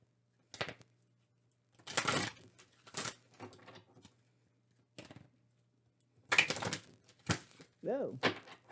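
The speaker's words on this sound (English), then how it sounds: "I love these cards. They're so easy to shuffle." Tarot cards are shuffled in short, crisp riffling bursts, a few separate flurries of papery clicking with silent gaps between them, close up, and a voice briefly heard near the end.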